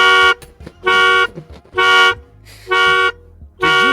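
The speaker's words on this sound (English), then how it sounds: "Did you just activate your own car horn?" A car horn honks five times in steady succession, each blast loud, close and about half a second long, with short gaps between, in a game stream where a player has turned into a car.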